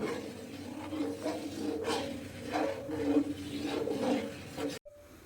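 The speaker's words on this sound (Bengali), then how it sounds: "দুধটা ফুটে এসেছে, আমি নেড়ে দিলাম।" A spoon scrapes and rubs rhythmically around a pot of boiling milk. The close, repeated stirring strokes go on for several seconds, then stop abruptly.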